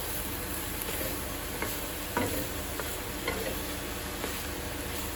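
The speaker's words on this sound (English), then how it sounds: "we're gonna give this a good stir" Riced cauliflower sizzles in olive oil in a pan while a utensil stirs it, a steady frying hiss broken by faint scraping ticks.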